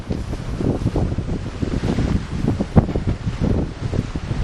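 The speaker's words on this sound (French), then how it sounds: "Je vous montre la mer malgré tout." Open-ocean waves and steady wind on a sailboat during a Pacific crossing, a continuous rushing wash with gusts buffeting the microphone and no voices.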